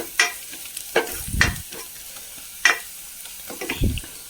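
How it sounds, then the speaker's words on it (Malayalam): Kashmiri chili powder being stirred into soya chunks frying in a pan: a steady sizzle with a handful of distinct scraping strokes of the spoon, close and clear, with no talking. "അത് ഇതിലേക്ക് ചേർത്ത് ഇളക്കി കൊടുത്തു"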